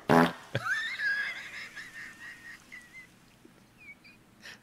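A comedic fart sound effect fired from a soundboard button in a PC game session: a brief loud burst, then a trailing squeaky, whistling tail that fades over a few seconds, alone without talk.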